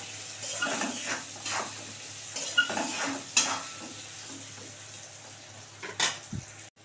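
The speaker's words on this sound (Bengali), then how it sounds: "এবার এটাকে সুন্দর করে আলুটাকে ভেজে নেব" Soft sizzle of potatoes frying under repeated scraping and stirring of a spatula in a pan, with a few louder clanks near the end.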